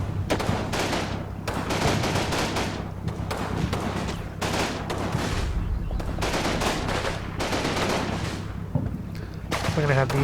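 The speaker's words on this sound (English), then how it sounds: "These guys are firing. They're firing." Soldiers exchange gunfire in the WWII strategy game Combat Mission: Fortress Italy, with dense, continuous bursts of rifle and machine-gun fire and heavy booms over a constant battle din, loud throughout, with faint speech underneath.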